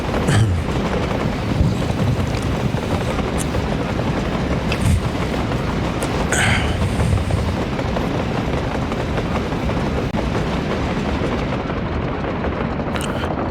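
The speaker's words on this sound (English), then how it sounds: "This is a very quick construction train." A construction train in the video game Workers & Resources: Soviet Republic runs steadily, producing a loud, continuous rumbling rail noise with occasional brief clanks, and no talk over it.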